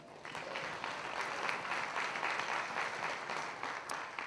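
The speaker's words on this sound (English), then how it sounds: "Give the Lord a hand clap." A church congregation claps their hands in steady, sustained applause, a dense wash of claps filling the room at moderate distance without pause.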